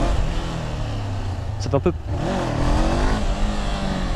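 A motorcycle engine drones at high revs for a wheelie attempt, a steady loud roar with a brief swell midway, while someone talks over it.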